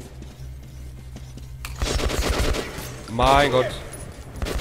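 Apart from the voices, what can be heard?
gunfire in a video game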